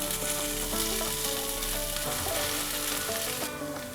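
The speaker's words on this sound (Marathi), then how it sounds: "आता आपण चांगली निथळून घेतलेली डाळ ह्याच्यात घालायची आहे।" Drained cooked chana dal sizzles steadily in a pan on a low flame, a constant close frying hiss with faint stirring, while soft tonal background music plays underneath.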